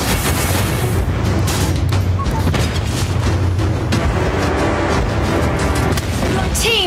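Mobile Legends battle with a turret being destroyed, loud booming blasts and crackling effects layered over dense game sound for about seven seconds.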